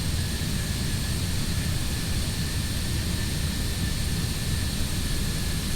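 Simulated Antonov AN-225 with six jet engines in Microsoft Flight Simulator 2020, a steady, moderately loud engine drone with high whining tones, continuous and without talk.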